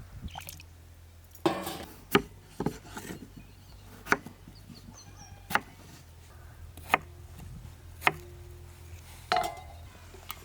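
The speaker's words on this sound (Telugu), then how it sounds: "ఈ రకంగా అన్నీ ఒకే సైజులో కోసుకుంటే అన్నీ ఒక్కసారే చక్కగా మగ్గుతాయి" Potatoes being cut into same-size pieces with a knife on a board, giving sharp, irregular knocks spaced a second or two apart over a quiet kitchen background.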